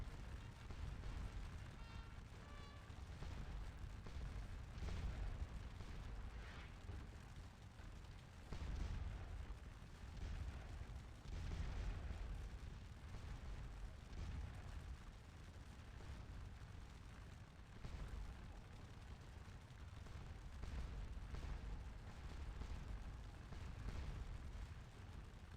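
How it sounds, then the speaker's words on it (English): Artillery battery firing in the Napoleonic war game Scourge of War, Battle of Quatre Bras, gives a continuous low rumble of distant booming cannon blasts, repeated irregularly over a long stretch and fairly faint. "Maybe don't stand right in the middle of an artillery battery when it's firing."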